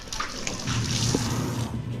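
Water sloshes and pours continuously during washing with soap and powder, a close, splashy wash of sound that runs the whole time at a fairly even level.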